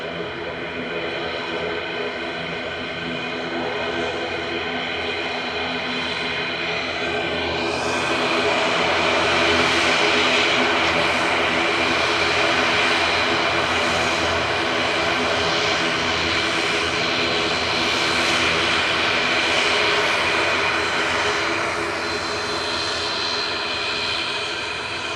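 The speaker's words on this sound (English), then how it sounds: "Logan Air's ATR 72600 LMTG departing to the Isle of Man with flight 694." A Loganair ATR 72-600 turboprop departs Manchester Airport for the Isle of Man, its loud propeller drone and whine rising sharply partway through and then holding strong, with a voice talking over it.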